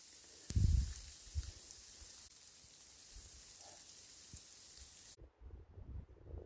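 A steady hiss of hail falling all around outdoors near a mountaintop, with occasional louder thumps and wind buffeting close by.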